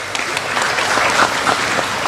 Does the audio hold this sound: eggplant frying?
no